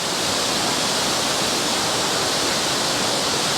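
The 94-foot waterfall at Ricketts Glen State Park roars as a dense, steady broadband rush of falling water, loud and unbroken throughout.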